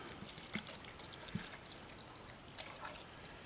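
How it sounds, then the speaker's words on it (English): About a pint of water poured into a soup pot for sauerkraut soup gives a faint, soft trickle with a few light splashes and drips, quiet and alone. "We're going to add about 1 pint's worth of water into this."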